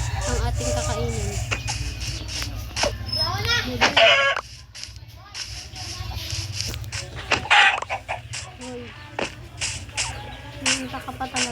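Chickens and roosters on a farm cluck and crow repeatedly, a couple of loud crows standing out among scattered clucks, with people talking nearby throughout.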